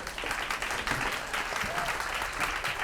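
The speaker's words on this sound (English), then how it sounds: "one more huge round of applause" An audience at a conference conversation event gives a sustained round of applause, dense clapping throughout the short stretch.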